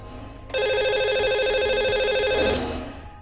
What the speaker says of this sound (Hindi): इन्हें अब हम लगाएंगे कॉल और करते हैं बात